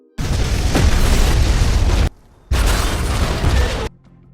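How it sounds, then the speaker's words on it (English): Two loud, sustained explosion blasts from a film, each a roaring rumbling burst lasting a second or two, separated by a short quiet gap and cutting off abruptly. "Prior to departing, Shelby triggers an explosion"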